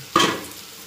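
Garlic and a chili drop into hot oil in a pan, giving a sudden sharp clink and sizzle burst that quickly fades to a faint hiss.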